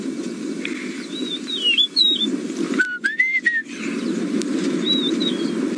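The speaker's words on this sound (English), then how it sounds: "you're pretty much certain to hear, I find it a very, very pleasant call of the rufous-naped lark." A rufous-naped lark in the Masai Mara gives clear, slurred whistled calls, with a second bird calling more faintly in the background over a steady low hum.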